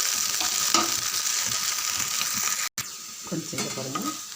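Okra (ladies finger) sautés in a pan, sizzling steadily as it is stirred, with a few scraping clicks from the utensil and a brief break partway through; no one speaks.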